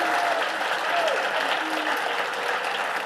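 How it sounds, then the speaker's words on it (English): A big round of applause from an audience at a student mental health event, a dense, loud, continuous clapping wash with faint voices mixed underneath. "a real big round of applause"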